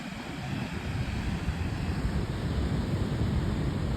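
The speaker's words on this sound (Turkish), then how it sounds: "Deniz hırçın ve dalgalı." Rough, choppy sea waves under an overcast sky, a dense unbroken roar of surf and wind with no distinct breaks, steady and fairly loud.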